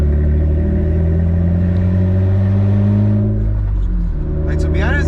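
Honda Accord engine running with loud open headers, a deep close rumble with rising and falling revs and strong harmonic drone throughout, easing down near the end.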